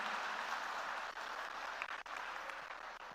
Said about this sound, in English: So big round of applause to the LinkedIn team